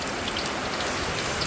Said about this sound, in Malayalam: പുറത്ത് നല്ല മഴയാണ് ഗൈസ് കണ്ടോ